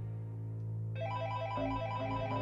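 A mobile phone rings from inside a pocket, a melodic ringtone playing repeated rising note patterns over a steady low hum, fairly clear and alone with no talking.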